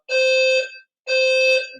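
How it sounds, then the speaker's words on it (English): A fire alarm blares in two loud, evenly spaced electronic honks, each lasting over half a second with a short gap between, alone with no talking. "we have a fire alarm going on"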